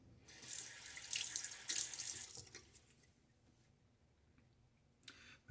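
Tap water running into a shaving brush and bowl for a wet shave, a hissing faucet stream for about two seconds, then tapering to quiet with a faint splash near the end.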